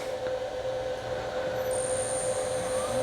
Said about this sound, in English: I have a spindle that's still loud when it cuts.